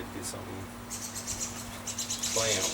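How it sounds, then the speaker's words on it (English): Small birds squabble outdoors near a pontoon boat, their sharp chirps and tweets repeating in quick bursts over a steady background hum while someone speaks briefly. "Got a bird fight."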